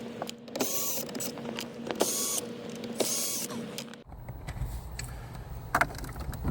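Four Torx T20 screws come out from behind the screen of a Jaguar F-Type, with short bursts of whining motor and mechanical creaks, then a quieter stretch of faint clicks and handling noise close by.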